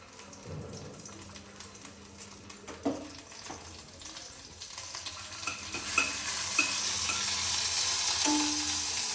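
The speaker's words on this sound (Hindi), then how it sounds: "ये बना रही है मैगी डिफरेंट स्टाइल में।" Maggi noodles cooking in a pan at home, with soft sizzling, stirring scrapes and a few clinks building gradually, fairly quiet and close with no talking.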